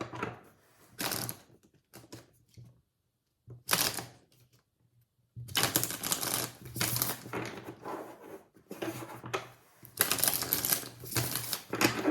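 Tarot cards are shuffled close up in short bursts of crisp riffling and flapping, with brief quiet gaps between rounds.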